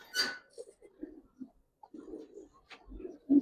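Giribaz and coloured pigeons at a pigeon market give short, low cooing bursts in a broken rhythm, close by, with a few sharper noises between calls.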